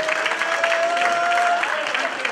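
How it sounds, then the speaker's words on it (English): An audience at a Florida Cricket Association award ceremony claps in a sustained burst of dense, close applause, with a thin steady tone ringing faintly beneath it. "give a big hand of applause, please"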